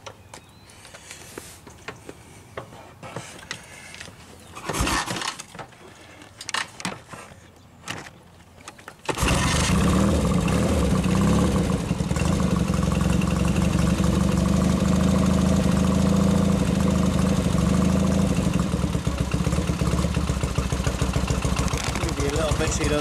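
A Triumph Bonneville T140 motorcycle with a single-phase charging system fault starts up after some handling noises and clicks, then settles into a loud, steady, close idle that runs to the end.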